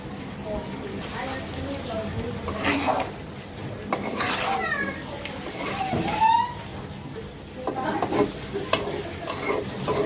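Chicken meat being cooked in a pan, with a steady sizzle and frying sound as a spoon stirs and scrapes against the metal, along with occasional clinks of utensils and a voice in the background.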